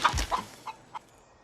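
Chickens on a ranch give a few short, close clucks: a quick cluster at the start, then two isolated clucks spaced apart, with no talking.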